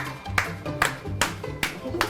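A single person claps hands at a guitar shop, six sharp claps spaced evenly at a moderate pace, close and fairly quiet.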